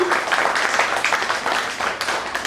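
Audience applause at an organisation's anniversary event, a dense, loud stretch of many people clapping steadily without a break.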